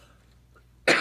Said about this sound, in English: you can cough and play simultaneously